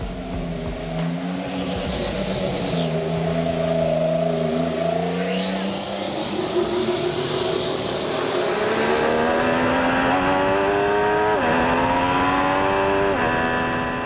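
A modern hybrid-era Williams Formula One car driving at Silverstone, its high-pitched engine revving up and down through gear changes as it accelerates, loud and steady throughout with no talking.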